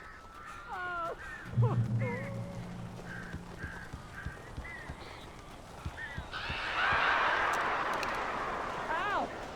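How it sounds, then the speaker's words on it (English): Several crows caw and squawk in the video game Alan Wake, scattered short harsh calls rising over a steady ambient bed, with a voice speaking among them. "These birds are weird."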